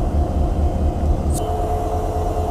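Locomotive 3011 of the Burimari Express idles at Natore railway station platform 2, a loud, steady low diesel rumble and hum with one brief high hiss partway through.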